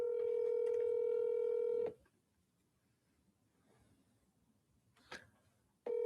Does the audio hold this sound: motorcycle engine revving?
no